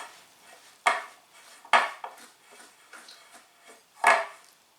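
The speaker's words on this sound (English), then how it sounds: "You've got to mix it well. Make sure all the flour is taken up." Sticky dough being worked by hand into flour in a bowl, with a few sharp knocks and scrapes against the bowl at irregular intervals between softer squelching movements, close and fairly loud.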